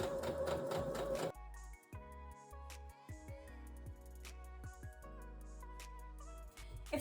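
A sewing machine stitches a seam through two layers of fabric, a steady loud mechanical whirr that runs in bursts with short pauses between runs.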